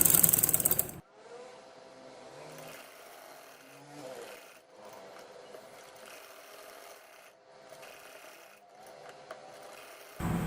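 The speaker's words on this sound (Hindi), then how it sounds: "अब मैं इसको यहाँ पर रखकर जो है सारी सिलाई लगा लेती हूँ" A sewing machine stitches around a fabric face mask, giving a steady, moderate mechanical whir that runs almost without a break between a sharp start and stop.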